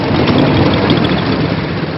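A small motorized pirogue's outboard engine drones loudly and steadily on the Mekong in Cambodia, a close, continuous rumbling hum with no talk.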